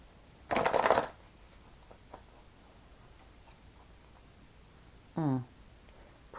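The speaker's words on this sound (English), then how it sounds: "Last shuffle." A single brisk riffle of oracle cards near the start, then quiet, followed later by a brief voiced sound.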